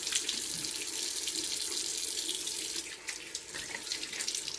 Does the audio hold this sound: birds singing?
no